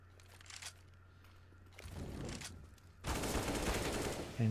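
Gunfire in Counter-Strike on the Overpass map during an ESEA Main match, several bursts of rapid shots building to a loud, dense volley near the end.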